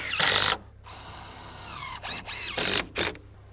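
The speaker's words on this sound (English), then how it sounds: "So I'm gonna screw these in. Probably do about 4 screws as well." Screws driven into exterior window trim on a log cabin, heard as several short bursts of a driver whirring and ratcheting, separated by quiet pauses, close and fairly loud.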